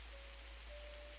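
Soft, steady rain falls as a constant broadband patter at a mountain ryokan at twilight, faint and unbroken with a low hum beneath.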